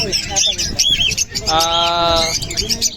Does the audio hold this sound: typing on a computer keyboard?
no